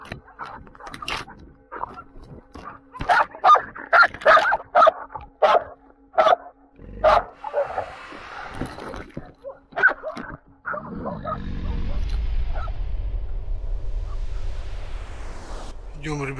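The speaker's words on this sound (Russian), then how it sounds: "Собаки лают, похоже, медведи." Dogs bark repeatedly in the taiga, sharp barks in irregular bursts at moderate distance, then a steady rushing noise like wind or movement takes over.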